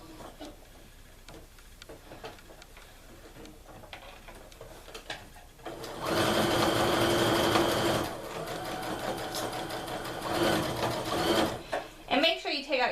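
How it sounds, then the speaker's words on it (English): A sewing machine stitches fabric for mittens made from an upcycled sweater, starting with soft intermittent ticks and then running in a loud, steady mechanical whir, with a voice talking throughout. "it doesn't get in the way of that machine needle going up and down"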